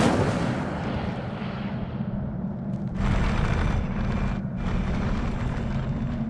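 The Incendio fire spell cast in Hogwarts Legacy roars as a loud, continuous fiery blast with rumbling bursts that swell again partway through, close and without speech.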